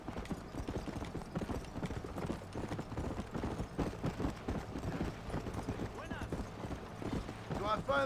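Horse hooves clip-clop in a steady rhythm within a video game, mixed with speech and game sounds, with a brief whinny near the end.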